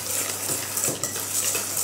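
A spoon working through a wet blueberry muffin mixture in a bowl, a soft continuous squelching and scraping with faint rhythmic swirls, close and fairly quiet, with no voices.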